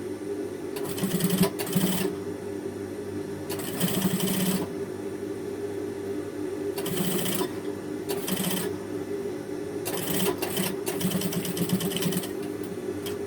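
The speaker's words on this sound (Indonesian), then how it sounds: "selesai proses menjahit kerah ini ke kerung leher" Sewing machine stitching a shirt collar onto the neckline, with short bursts of rapid mechanical clatter separated by pauses, over a constant low motor hum.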